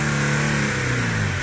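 Loud, sustained high revving from an Infiniti G37 running with exhaust silencers, steady and near, the pitch easing slightly toward the end with no talk over it.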